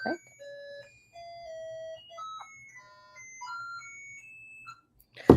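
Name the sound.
alarm going off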